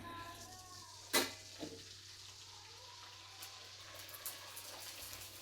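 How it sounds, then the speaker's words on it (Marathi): Kurdai papad fry in hot oil in a kadhai, a soft, steady sizzle with a sharp crackling burst early on and a few quieter pops afterward. "तेल तापलं आणि कुरडया पापड मी आता तळून घेते."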